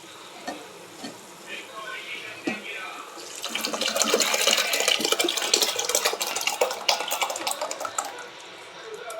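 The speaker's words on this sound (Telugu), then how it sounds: "మనం ఉడికిచ్చి కుక్ చేసి పక్కన పెట్టుకున్న టమాటా పప్పు ఈ తాలింపులో వేసుకోవాలి" Cooked tomato dal poured into a hot, sizzling tempering in a pan, a loud burst of frying sizzle and splatter swelling up midway and continuing with stirring sounds close by.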